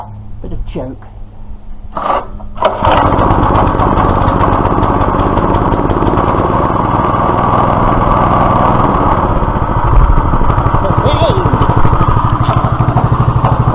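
After a few handling knocks, the petrol engine of a Clarke PW50 water pump starts up and runs continuously with a loud, close, rapid, rattling small-engine chug.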